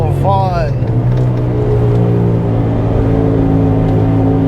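Turbocharged Subaru BRZ with a screamer pipe and open wastegate, a loud, close, sustained exhaust drone with a brief rising whine near the start, steady throughout.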